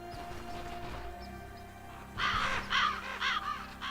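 In the video game Stoneshard, a raven caws three or four times in quick succession, harsh and fairly loud, rising out of a quiet, dark ambient drone.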